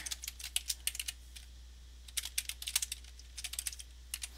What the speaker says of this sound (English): I'm going to type in my URL here